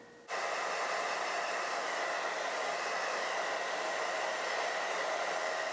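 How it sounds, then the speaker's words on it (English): Hair dryer switching on and blowing steadily while drying a wig during installation, a loud continuous whooshing roar that starts abruptly after a brief quiet moment and holds alone. "I'm also gonna blow dry it just to make it faster."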